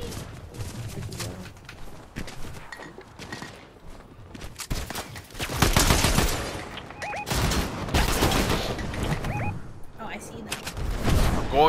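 Enemy gunfire in Fortnite crackles in bursts of rapid shots, sometimes distant and sometimes close and loud, mixed with footsteps and movement sounds while a player talks over the action.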